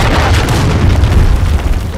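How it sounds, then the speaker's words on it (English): A cruise missile explosion in Call of Duty Modern Warfare II lands as a loud, close, rumbling boom that fills the whole moment with heavy low-end roar and no talk over it. "Friendly cruise missile approaching target."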